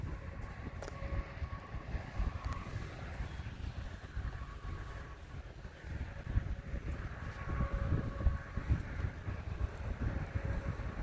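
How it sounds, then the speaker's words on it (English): Wind gusts across an RC flying field at about ten miles an hour, a continuous rumbling buffet against the microphone that swells and eases without pause. "the wind speed is about 10 miles an hour"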